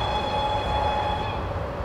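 A train in Train Simulator 2014 rolling steadily along the Köln–Düsseldorf line, a constant rumble with a faint sustained tone riding over it, smooth and even.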